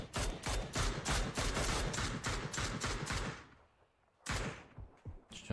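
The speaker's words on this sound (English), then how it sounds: "Shots fired." Rapid bursts of gunfire crackle in a PUBG esports match, a dense volley of repeated shots that cuts out briefly before further shots resume.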